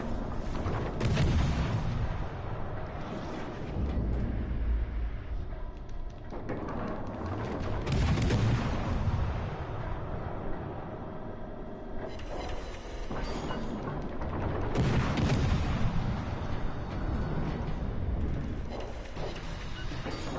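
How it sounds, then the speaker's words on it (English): Naval artillery shells from a warship slam into an island in World of Warships Legends, repeated heavy booms and rumbling impacts rolling over a continuous loud engine and battle drone. "Of course, some shells hit the island."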